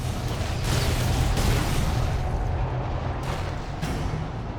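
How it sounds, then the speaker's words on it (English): Plasma cannon firing in the Warhammer 40k: Space Marine video game, a sustained dense roar of energy with rolling low rumble and bright crackling bursts repeating throughout, loud and steady with no talk. "This is a plasma cannon."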